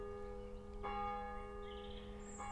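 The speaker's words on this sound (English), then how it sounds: "you can hear the bells there, or the bell chiming in the background." Two distant strikes of a church bell on a Sunday in the English countryside, each followed by a long ringing hum that slowly fades, with quiet outdoor ambience underneath.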